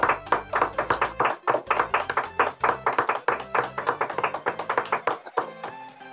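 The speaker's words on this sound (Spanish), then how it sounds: "Un fuerte aplauso para todos ellos." A group at a workplace recognition ceremony for private security staff claps together, a loud and fairly regular rhythm of close individual claps that thins out and fades near the end.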